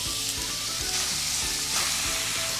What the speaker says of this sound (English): You're going to sit here and mash this in until all your meat is ground up and browned.